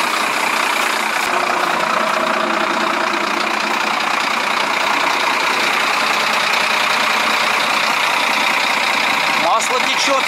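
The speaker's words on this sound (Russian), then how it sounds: "Слышно хорошо, что клапана долбят." An engine idles steadily with a rapid, fine ticking from valves that need adjustment, loud and close, while someone speaks over it.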